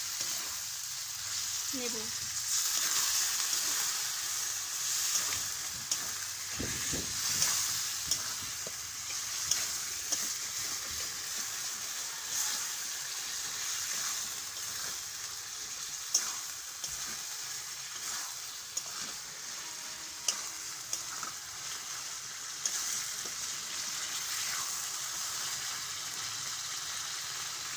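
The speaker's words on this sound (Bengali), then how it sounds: "এইভাবে একসাথে মশলার সাথে আলু আর হিঁচড়গুলো ভালো করে নেড়ে চেড়ে" Potatoes and jackfruit stirred with spices in a frying pan make a steady close sizzle, with scattered scraping and stirring clicks throughout and a brief spoken word.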